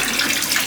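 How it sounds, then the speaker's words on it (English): Liquid from a bottle glugging and splashing into a container while hair products are mixed, a short close, continuous watery pour. "I think I'm about to just pour the whole bottle in there."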